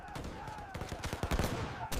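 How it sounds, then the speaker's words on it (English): Battle gunfire sound effect of defenders fighting off a pirate attack on a U.S. Navy ship in the Gulf of Aden, with a quick burst of rapid shots rising out of a rumbling, noisy background. "The defenders fight with desperation, shouting orders, drowned by the roar of gunfire."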